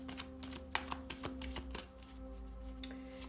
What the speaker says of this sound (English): sometimes it does take me a while to shuffle